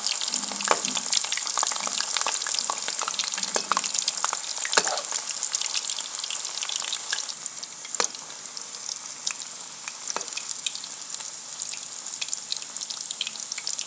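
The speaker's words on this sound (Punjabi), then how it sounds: "ਹੁਣ ਤੇਲ ਗਰਮ ਹੋ ਗਿਆ ਤੇ ਆਪਾਂ ਕਰੇਲੇ ਪਾਵਾਂਗੇ ਦੋ ਦੋ ਕਰਕੇ ਭੁੰਨਾਂਗੇ ਆਪਾਂ" Stuffed bitter gourds (karela) frying in hot oil in a village kitchen, giving a steady, loud, dense sizzle with occasional crackles and pops throughout, close by and without speech.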